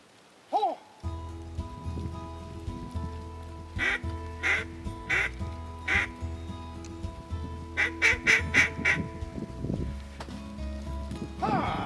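Ducks quack in a series of short nasal calls, with a quick burst of several quacks near the end, over a steady low hum and background noise.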